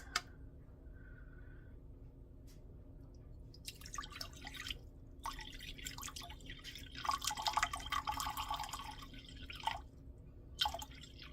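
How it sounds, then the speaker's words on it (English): Distilled water is poured and trickles in small spurts into a container on a scale for soap making, sounding as intermittent splashes and drips after a quiet opening, fairly faint and close. "I'm going to measure 266 grams of distilled water."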